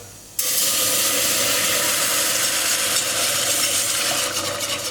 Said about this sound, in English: Now we have to make sure all our flour and butter gets nicely sort of mixed into the milk.